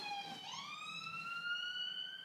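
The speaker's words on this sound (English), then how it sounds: "That was a police car." A police car siren wails in a rising, sustained tone, somewhat distant and faint, passing by outside with steady background hum.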